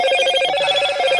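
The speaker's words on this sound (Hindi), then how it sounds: "फोनवा काहे नहीं के उठावत।" A telephone rings with a bright, warbling electronic tone that pulses rapidly and continuously, loud and close, with nothing else heard.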